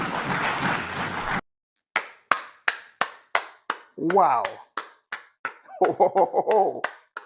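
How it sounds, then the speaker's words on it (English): Sharp, separate hand claps sound in a slow, steady rhythm after a burst of speech, with a short exclamation partway through and brief voiced sounds under the later claps. "You deserve a round of applause."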